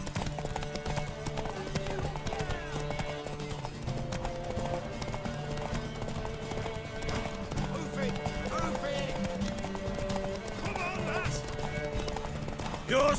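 Galloping horse hooves in The Witcher 3, a fast, continuous clopping beneath game music and voices, with a brief whinny in the mix.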